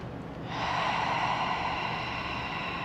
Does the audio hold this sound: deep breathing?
yes